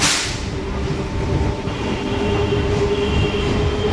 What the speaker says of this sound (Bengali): আমাদের ট্রেন কিন্তু ছেড়ে দিল কলকাতা স্টেশন থেকে,